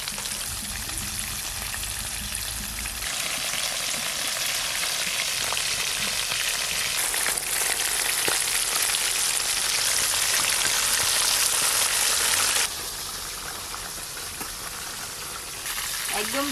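KFC-style chicken pieces deep frying in hot oil in a home kitchen, a loud continuous sizzle and crackle that intensifies midway before easing slightly near the end.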